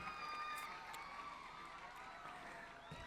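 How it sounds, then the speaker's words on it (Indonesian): Applause and crowd noise from an audience at an evening opening ceremony at Ancol Taman Impian, Jakarta, a steady wash of clapping with a few cheers rising over it throughout. "Kita beri tepuk tangan untuk semua yang bekerja menyiapkan ini."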